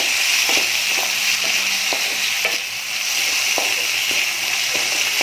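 Fried prawns are stirred into masala with bottle gourd in a pan, a constant loud sizzle broken by regular scraping strokes of a spatula, close and without speech.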